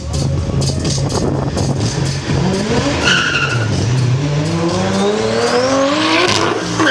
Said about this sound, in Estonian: Hemi V8 Ameerika auto.